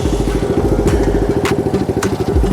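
A mini dirt bike engine, either a Rawrr Mantis Mini R or a Kawasaki KLX110R, runs close and loud with a steady, rapid putter, its revs rising and falling slightly while the rider struggles to shift into second gear.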